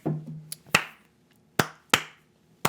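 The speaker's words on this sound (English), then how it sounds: "can we get a slow clap?" A handful of slow, separate claps in a quiet room, four or five sharp hits spaced unevenly with silence between them.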